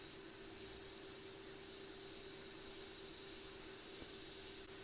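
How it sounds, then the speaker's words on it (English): Light, steady hiss of an airbrush or spray gun misting thin paint onto a Shelby blade, continuous and close with a faint hum beneath, no talking. "I'm going to really lightly just kind of spray at this thing."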